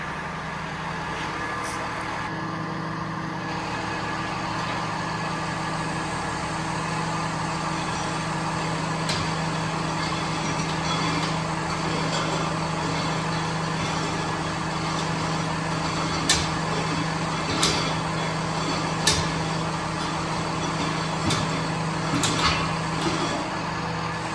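A crane's engine runs at a steady, droning idle while it pulls the undercarriage of a Cat D6K2 dozer during repair work, with a few faint metallic clinks and knocks over the continuous hum.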